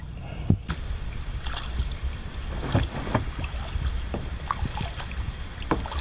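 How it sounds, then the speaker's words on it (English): Kayaks being paddled on the Potomac River on a hot day, with soft splashes and paddle strokes in the water over steady wind noise on the microphone, close and moderate in level, with no talking. "We're going to paddle out to an island out here and camp out."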